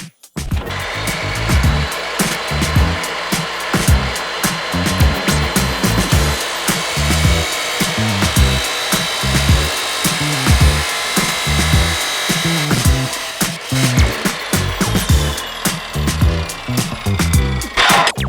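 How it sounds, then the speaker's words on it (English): A power chop saw grinds through metal on a Porsche 964 Turbo continuously for the whole stretch, loud and close, with a harsh rasping whine and no talking. "Bit of sketchy chop sawing."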